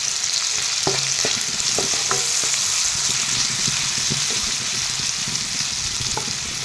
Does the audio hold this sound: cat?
no